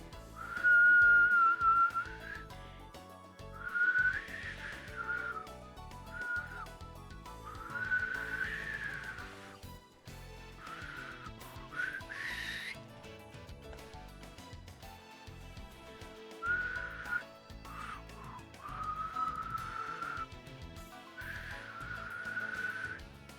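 Several clear whistled notes in short phrases, some held and some sliding, repeating over a steady musical background.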